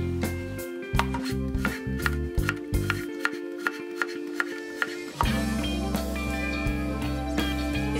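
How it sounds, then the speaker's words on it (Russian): A knife taps rhythmically against a cutting board in quick, even strokes, close up, slicing cucumbers into half-moons. "Нарезаем полукружочками огурцы."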